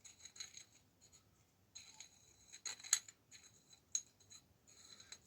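Small hand file and trimming tool working a tiny edge of a bicycle front-end part, giving scattered short scrapes and clicks, with a few sharper metallic snips near the middle and end.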